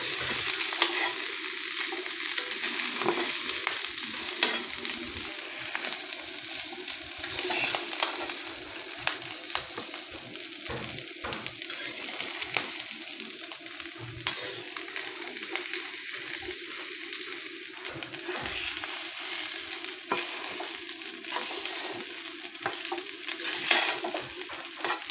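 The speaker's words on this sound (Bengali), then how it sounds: "এখন নেড়ে চেড়ে ভালো করে মিশিয়ে নেব।" Chopped green chilies and ginger paste stirred in a hot pan, a soft ongoing sizzle with repeated scraping strokes of a spoon throughout, no voices.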